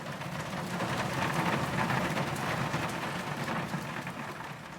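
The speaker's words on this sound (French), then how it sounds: "la pluie a commencé de tomber." Steady rain falling and pattering on surfaces, a continuous moderate hiss holding even throughout.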